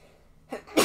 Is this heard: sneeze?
yes